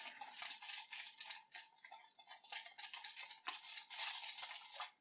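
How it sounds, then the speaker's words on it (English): Toy food mix from a Doctor Dreadful Freaky Food Lab kit being stirred, a quick scraping, clinking patter that keeps up steadily at close range for about five seconds, with no talking. "let's get this stirred up good too"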